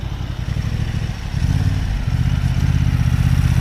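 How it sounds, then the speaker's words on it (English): A motorbike passing close behind on a European road trip, a steady loud engine drone that swells slightly partway through over constant road rumble. "There's a bike coming right behind you"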